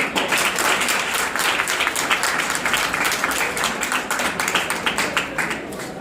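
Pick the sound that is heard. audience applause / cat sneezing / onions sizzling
audience applause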